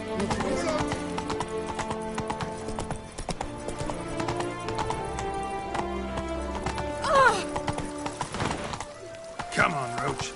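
Roach, a horse in The Witcher 3, gallops in a quick, steady clip-clop of hooves with a whinny near the end, under game music and faint ambience. A voice speaks briefly.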